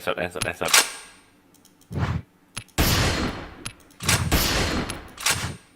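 Gunfire in a shooter video game, loud bursts of automatic shots in several rapid volleys, interspersed with short clangs and voices speaking.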